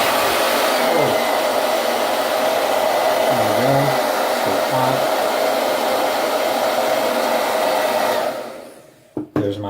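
Hair dryer blowing to quick-dry a drop on paper chromatography paper in a chemistry lab demo, a loud steady roar that holds for about eight seconds, then cuts off, leaving a few faint handling clicks.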